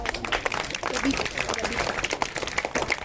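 Applause at a free-gift event for pupils of a government Urdu and English medium higher primary school, a dense, steady clatter of many hands filling the whole moment with a voice faintly mixed in.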